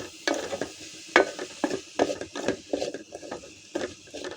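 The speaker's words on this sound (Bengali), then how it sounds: "এগুলোকে ভালো করে নেড়ে একটু সিদ্ধ করে নেব" Spinach soup ingredients are stirred in a pot, heard as a run of close, separate scraping strokes and soft knocks at an irregular rhythm, with a faint sizzle between them.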